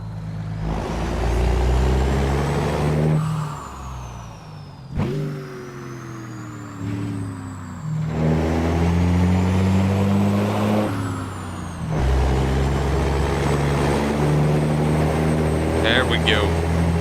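An American Truck Simulator truck with a Cat C6NZ engine hauling a reefer trailer: a loud, steady diesel drone with gear shifts that briefly drop and rebuild the engine note, plus a sharp air-brake hiss near the middle.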